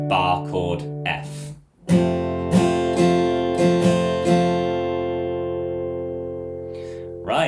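An acoustic guitar strums an F barre chord several times in quick strokes, then lets it ring out and decay, with brief talk just before.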